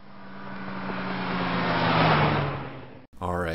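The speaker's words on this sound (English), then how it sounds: "as the car passes and moves away from the observer, what do you notice in terms of pitch?" A single car approaches and passes an observer, its engine tone swelling to a peak and then dropping in pitch as it moves away, a smooth Doppler sweep heard alone before cutting off abruptly.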